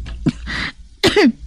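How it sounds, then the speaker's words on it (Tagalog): Two rough coughs from one person, a short dry cough first and then a harsher, throatier one after a brief pause, close and fairly loud. "para nga mag-ayaw man ang ubo mo"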